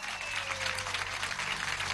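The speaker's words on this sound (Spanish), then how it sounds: "Creo que nosotros merecemos un aplauso." A crowd at a celebration event applauds in a brief, fairly dense burst of clapping heard somewhat faintly over a steady low hum.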